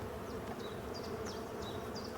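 Honeybees buzz steadily at an opened Dadant hive in a forest, a soft constant hum with a few individual bees darting close by in brief whining passes.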